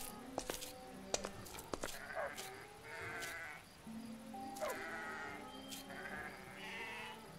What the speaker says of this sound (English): Let me get the sheep.